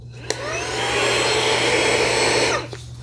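A Fanttik handheld car vacuum, USB-C charged, switches on with a click and whines steadily and loudly at close range for about two seconds before winding down and clicking off.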